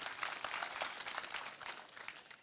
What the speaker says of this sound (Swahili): Mpatie tu makofi mzuri tu.